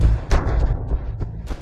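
A pistol fires in a film duel scene, several sharp loud cracks and thuds punctuating the stretch, close and percussive with short decays and no speech over them.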